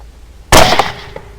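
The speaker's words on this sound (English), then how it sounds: "I didn't hear a thump with that shot" A single sharp rifle shot fired at a coyote during a night hunt, one loud, close blast that cuts in abruptly and fades into a short rumbling echo.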